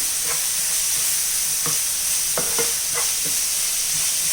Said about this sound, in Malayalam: നല്ലോണം ഒന്ന് ഇളക്കി മിക്സ് ചെയ്യാം